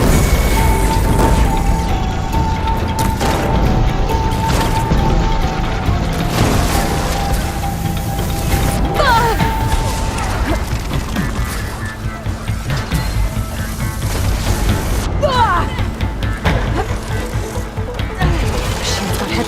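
Combat against robotic machine enemies in Horizon Forbidden West, with dense mechanical clanking, booms and crashes running continuously under loud battle noise and occasional shouted voices.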